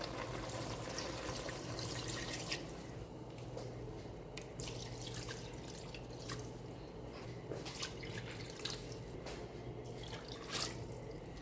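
Water runs steadily into a pot of sinigang na baboy (Filipino pork sour soup) on the stove, a continuous close splashing trickle with scattered drips and no talking.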